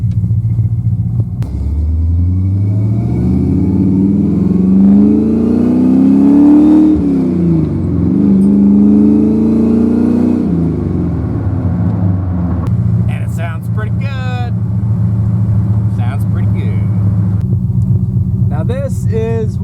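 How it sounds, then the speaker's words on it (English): AMC 304 V8 in a hot rod, rumbling loudly and revving up and falling back, with a deep steady engine drone throughout and faint voices near the end. "people poo-poo on the 304 AMC. It's a good little motor."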